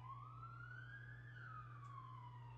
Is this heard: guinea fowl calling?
no